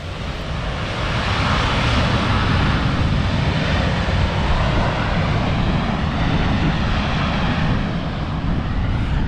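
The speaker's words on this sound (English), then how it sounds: "there was a BA flight landing in from London" A British Airways airliner arriving from London lands on the Gibraltar runway, its engines giving a loud, steady roar that holds for the whole stretch with no voices.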